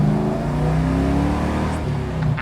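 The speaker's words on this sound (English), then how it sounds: "That's about half throttle there" A 1971 Chevrolet Camaro engine revs at about half throttle, a loud, steady, close roar holding for a couple of seconds before it eases slightly, with no talking.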